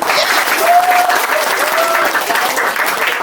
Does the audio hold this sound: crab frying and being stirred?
no